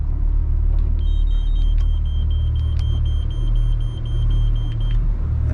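Boat engine idling at about 1200 RPM on a 26 foot Seasport fiberglass boat, a loud steady low rumble with faint electronic beeps from the helm over it.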